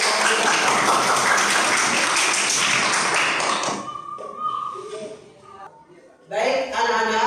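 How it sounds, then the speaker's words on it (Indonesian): Classroom applause for a student group that has just presented, a dense burst of clapping that fades out midway, followed by a teacher's voice speaking. "Tepuk tangan untuk kelompok 3."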